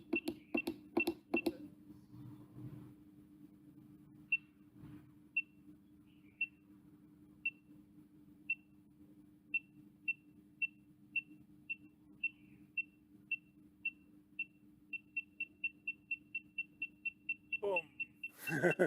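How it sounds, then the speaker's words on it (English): Smart parcel locker keypad giving short, high electronic beeps, first spaced about a second apart and then speeding into a rapid run, over a faint steady hum with brief clicks and handling noise at the start and end. "Take note of the flashing and beeping instruction there, which means close the door until you hear a click."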